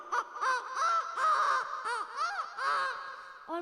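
A voice mimics a Chinese rooster crowing, a rapid string of warbling, wavering crow-like calls up close, ending in a lower final note.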